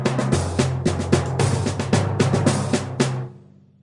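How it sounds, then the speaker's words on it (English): A cartoon percussion section of drums and cymbals plays loud, close, rhythmic hits, with bursts of cymbal crash over a pounding beat. It ends with a final strike that rings away into silence. "The percussion family is made of cymbals and drums."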